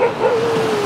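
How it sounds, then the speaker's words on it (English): A dog on Kata Beach in Phuket gives one short, drawn-out yelping bark that slides in pitch, close and loud over a soft wash of surf. "Oh, I think this is the dog that waits around."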